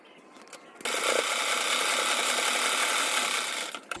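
A sewing machine stitches a blouse hem in a loud, steady mechanical whir after a brief start-up, running continuously for about three seconds before stopping.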